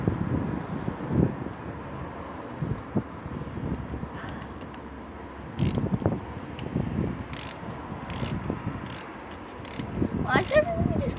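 A socket ratchet clicks in short bursts while tightening the brake lever bolt on a Honda SH125i scooter, close mechanical ratcheting with pauses between strokes and light background noise.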